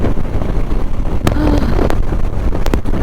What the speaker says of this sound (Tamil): பிச்சுக்கிட்டு போயிடும் போல இருக்கு அந்த அளவுக்கு காற்று அடிக்குது ஏன்னா அந்த அளவுக்கு வண்டி ஸ்பீடில் போயிட்டு இருக்கோம்